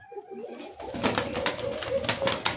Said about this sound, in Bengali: আকাশ ছুঁই ছুঁই একজোড়া কবুতর দেখতে পাচ্ছেন